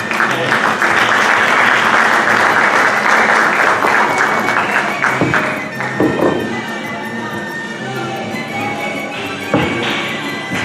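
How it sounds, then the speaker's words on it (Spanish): Loud audience applause at a book presentation for the author Pedro Flores Cueva, dense and close at first, then thinning into scattered claps before fading as the room settles. "le brindamos un fuerte y cálido aplauso para él"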